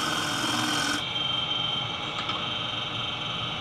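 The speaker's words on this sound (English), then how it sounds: "Here I am committing a cardinal woodturner sin, turning cross grain with a spindle roughing gouge." A wood lathe turns cross grain while a spindle roughing gouge cuts a candle holder blank, giving a loud, steady, continuous rasping roar close by that eases slightly after the first second.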